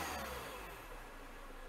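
A Mini Cooper engine revs up briefly as the throttle is pressed, a short rising whine that then eases off, heard faint and close with no talk.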